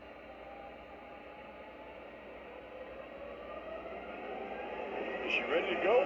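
Custom-run MTH GP35 O scale model locomotive running its extended startup sequence: a low, steady hum swells gradually with rising rumble and a few sharp tones near the end, under a speaking voice.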